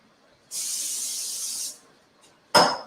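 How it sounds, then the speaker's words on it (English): A long hiss of cooking spray, then a short pause and a second, sharper burst of spray close by. "This one I'm going to spray the pan."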